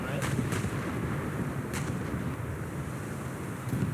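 Naval guns of the battleship HMS Queen Mary fire in a video game, several distant booming shots spaced irregularly over a constant rumbling, windy background, with a voice talking underneath.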